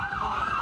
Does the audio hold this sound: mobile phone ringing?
no